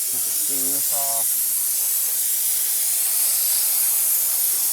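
Steam jet hissing steadily onto a BMW F10 M5 brake caliper after a 4:1 diluted cleaner, a continuous close broadband spray lasting throughout, with a brief voice near the start.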